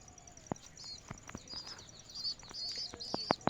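Pigeons in a loft on a rainy day, faint soft coos and short chirps scattered over a few seconds, with a few sharp clicks and taps close by.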